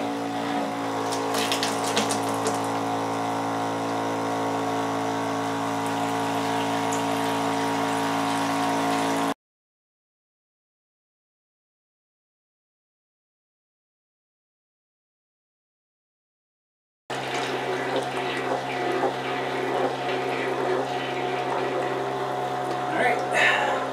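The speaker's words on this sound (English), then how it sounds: "see how many gallons per minute this thing can do. 5th test. With no nozzle on the end." VEVOR 4-gallon battery-powered backpack sprayer pumping water with no nozzle attached, a steady hum with a rushing water stream, broken by a long silent gap before the spraying resumes.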